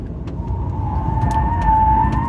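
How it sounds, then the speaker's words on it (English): A 2024 Honda CR-V four-cylinder engine drones steadily from inside the cabin, its tone slowly rising as it revs up, with occasional faint clicks and road noise. "You have a typical Honda engine sound"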